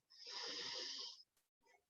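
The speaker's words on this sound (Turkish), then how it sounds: "Derin derin nefes alıyoruz." Deep breaths drawn through the nose during a guided breathing exercise, one long, close airy inhale lasting about a second, followed by a shorter, softer breath.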